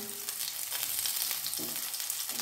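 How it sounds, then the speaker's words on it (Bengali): Long strips of capsicum fry in hot oil with a pinch of salt, a steady close hissing sizzle with faint crackle, brief and without voices. "একটা গোটা ক্যাপসিকামের হাফ এখানে কেটে আমি লম্বা লম্বা টুকরো করে তেলে ছেড়ে দিয়েছি"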